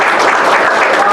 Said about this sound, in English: Give a big hand of applause for that.